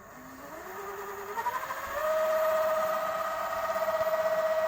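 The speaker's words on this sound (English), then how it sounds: "now the motor's turning the spindle over" Sieg X2 mini mill motor spinning up the spindle through a 1:1 pulley drive, a rising whine that climbs in pitch over the first two seconds, then settles into a steady loud hum.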